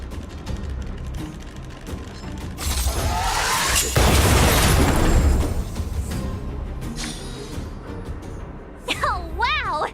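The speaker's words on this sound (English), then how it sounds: "We wiped them all out in a single explosion!" Automaton stealth bomb exploding in the Honkai Star Rail video game, a loud crashing burst with shattering debris that swells mid-clip among game effects, with a voice speaking over part of it.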